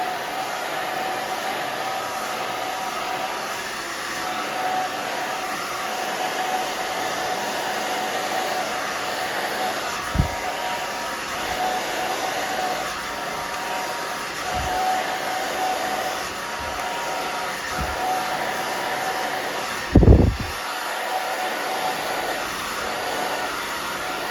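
A hair dryer runs steadily on a bob haircut for thick hair, a continuous close whir with brief bumps and a louder thump near the end.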